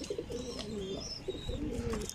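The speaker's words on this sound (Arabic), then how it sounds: "شوف طيرها جوعان" Hungry pigeons cooing inside a loft, soft repeated throaty coos in short phrases, fairly close and moderately quiet, with no talk.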